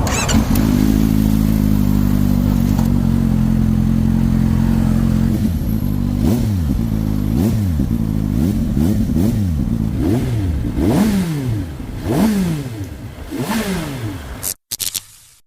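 A CFMoto 750SRS motorcycle with a high-mounted quad exhaust idles with a steady, loud rumble, then revs repeatedly in sharp rising and falling bursts, close up and with no voices, before cutting off abruptly near the end.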